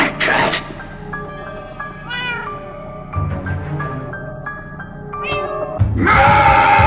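A cat meows repeatedly in a series of drawn-out, wavering cries, some rising into caterwauling, loud and close, with short bursts of noise between calls.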